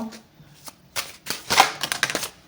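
Tarot cards being shuffled by hand, a series of quick papery riffles and slaps growing denser and louder, close up with no talk.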